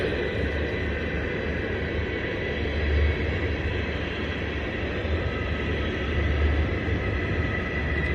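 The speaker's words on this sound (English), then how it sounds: "These cars are the ones for Anvil that I believe." Norfolk Southern freight cars for a stone train roll past on a stormy, rainy day along the Harrisburg Division, a steady, dense rumble and rattle of wheels and cars continuing throughout with no pauses.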